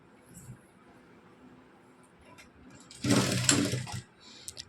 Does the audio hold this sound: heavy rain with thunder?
no